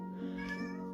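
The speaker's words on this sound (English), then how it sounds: "Excuse my cat meowing." A pet cat gives a single clear, close meow indoors, a short tonal call rising and falling in about a second against quiet background.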